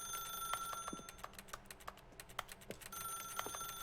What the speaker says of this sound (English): It sounds like I'm clicking on a keyboard.